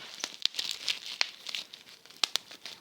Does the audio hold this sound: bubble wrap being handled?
yes